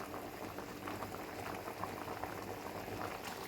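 A coconut mixture boiling in a pan with a constant soft bubbling and gurgling, close but quiet, steady for the whole stretch with no talking.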